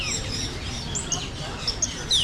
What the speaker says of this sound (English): Birds galore.